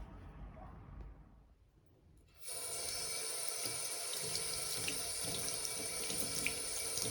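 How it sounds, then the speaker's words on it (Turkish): A kitchen tap runs onto a Dyson V12 vacuum filter being washed, a quiet start giving way to a steady, close rush of water that continues to the end. "Şimdi ben bunu yıkamaya götürüyorum."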